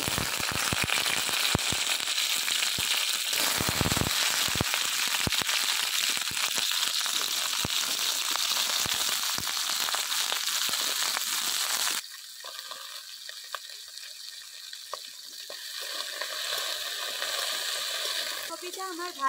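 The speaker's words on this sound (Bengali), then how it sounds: "ফুলকপিটা আমার ভাজা হয়ে গেছে।" Cauliflower pieces fry in white oil with a loud, dense crackling sizzle that runs continuously, then drops to a quieter, sparser bubbling for the final stretch.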